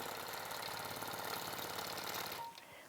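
Sewing machine stitching through a minky quilt with batting, a fast, even mechanical chatter that runs steadily and then abruptly stops near the end, with no talking.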